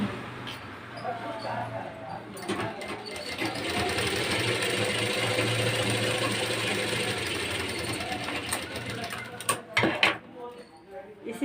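Steady close whir of a sewing machine running the darts on a lined blouse, a long continuous stretch broken by a few clicks and brief stops near the end.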